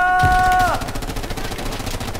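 Rapid machine-gun fire rattles without pause in the World War II shooter Hell Let Loose, loud and close. A brief tonal chime cuts in at the start.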